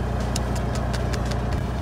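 A Ford Ranger Raptor idles on its stock exhaust with a loud, steady low rumble and an even engine throb, heard close up, with a few light ticking pulses over it and no voices.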